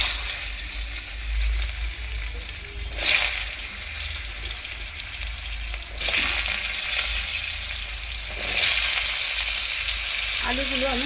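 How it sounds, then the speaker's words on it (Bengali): Potatoes fry in hot oil over a high gas flame with a steady, close hiss and sizzle that swells in a few louder bursts, likely as the pieces are turned. "এই আলুটাকে আমি একটু ভেজে নেব"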